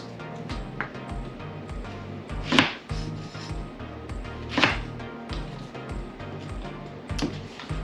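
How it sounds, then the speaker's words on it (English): A knife chops pre-peeled shallots on a cutting board in steady, close, regular thuds, with a few louder strokes standing out against quiet kitchen background. "Then slice them in half."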